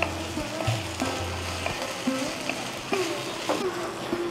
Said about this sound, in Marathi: हा मटार आपण 2 ते 3 मिनिटं परतून घेतला आहे